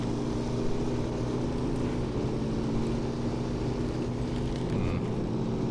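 Steady engine drone from a truck in SnowRunner running on its normal engine, a constant low rumble with a humming tone that holds at an even level from start to end with no talk over it.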